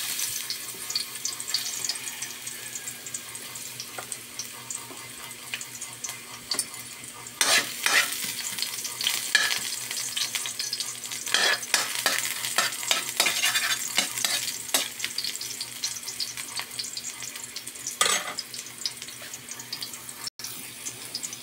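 Ginger, garlic and onion sauté in olive oil for a home-style pork nilaga, a continuous close sizzle broken by repeated stirring clatter and scrapes of a utensil in the pan, heard alone without speech.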